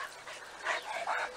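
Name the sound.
dogs barking at the hens through the fence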